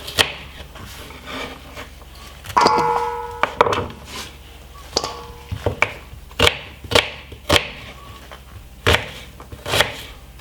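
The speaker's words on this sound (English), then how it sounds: "I'm cutting up the white onion and put on it" A knife cuts up a white onion on a board while pork is prepped for roasting: a brief scraping, rubbing stretch, then a dozen or so crisp, close chopping knocks at irregular intervals, with no talk.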